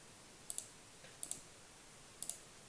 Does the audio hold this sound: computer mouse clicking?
yes